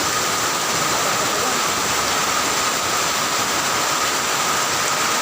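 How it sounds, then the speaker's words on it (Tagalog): Heavy rain pours down in a thunderstorm as a dense, constant roar of water, loud and unbroken throughout with no voices. "Kasi ang lakas ng ulan."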